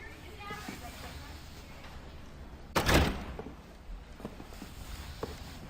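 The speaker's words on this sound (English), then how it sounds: "Get in here and close the door." An indoor door is shut with a single firm thud midway through, while people talk quietly before and after.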